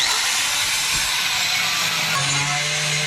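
An angle grinder cutting holes in the metal body of a Hymer van, a continuous loud hissing whine that holds steady, a low tone rising near the end as the load changes.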